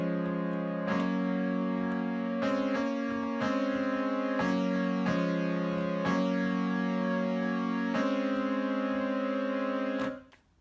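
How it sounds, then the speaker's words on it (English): The factory default preset of Logic's Retro Synth plays a steady, buzzy monophonic line of sustained notes with occasional pitch changes, clear and even until it cuts off near the end. "So the factory default of that retro synth sounds like this."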